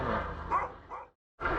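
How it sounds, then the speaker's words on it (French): A dog barks and yelps a few times at moderate distance in a village near Paris under aircraft noise, followed by a short silence and another bark. "il y a même un chien qui crie"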